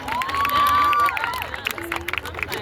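A crowd at a celebration in the Governor House of Sindh cheers and claps, with whistles and sustained shouts rising above the noise, then scattered claps tapering off.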